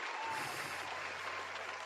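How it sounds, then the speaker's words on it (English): Podcast studio audience applause for politician Luther Campbell, a brief wash of clapping at steady level. "Round of applause for Uncle Luke"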